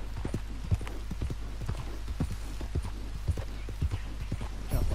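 Horse hooves clip-clop steadily in Red Dead Redemption 2 as a horse is ridden in circles, a regular rhythmic trot close by with a faint low background hum.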